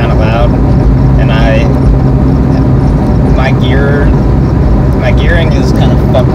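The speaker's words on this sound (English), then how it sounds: "The car is, well, kind of loud." A car engine drones loudly and steadily throughout while a person talks over the noise.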